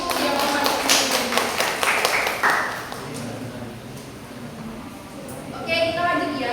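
A class claps for a student in a teaching session: rhythmic clapping over the first couple of seconds that fades, with a voice talking over it.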